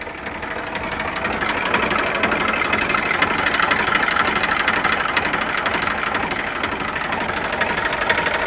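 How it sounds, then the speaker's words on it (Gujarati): A Massey Ferguson 7250 DI tractor's diesel engine idles nearby with a steady knocking rumble, holding an even rhythm from start to finish, with no voices over it. "એન્જિન પાવરફુલ છે ભાઈ."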